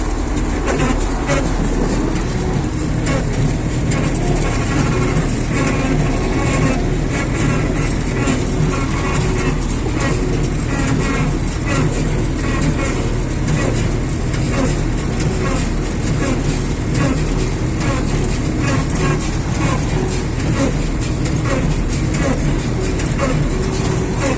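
A tractor in low third gear pulls a Sipma pickup baler over a dry, drought-thinned hay field, giving a steady, loud, continuous engine drone and machinery clatter with a busy rhythmic rattle throughout.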